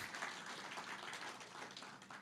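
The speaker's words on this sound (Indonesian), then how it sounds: "Berikan tepuk tangan kemuliaan bagi nama Tuhan" A church congregation applauding during a worship sermon, a steady wash of many hands clapping at moderate distance, fairly quiet and continuous throughout, with no talking over it.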